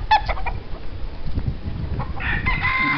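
Chickens and a rooster around a rural Filipino yard, with a few short clucks and calls near the start and more bird calls toward the end, heard over steady outdoor background rumble.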